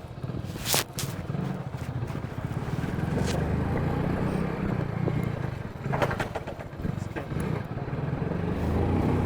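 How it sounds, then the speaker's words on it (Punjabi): A motorcycle engine runs steadily at low speed, about 17 km/h, with a dull, continuous rumble, while people talk over it. "17 ਕਿਲੋਮੀਟਰ ਦੀ ਸਪੀਡ ਤੇ ਮੋਟਰਸਾਈਕਲ ਚੱਲਦਾ ਪਿਆ ਜੀ"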